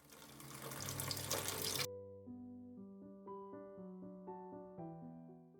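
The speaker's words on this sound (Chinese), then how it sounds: "先清洗蝶豆花" A tap runs as butterfly pea flowers are washed under it, a steady rush of water lasting about two seconds that stops abruptly, followed by soft melodic music.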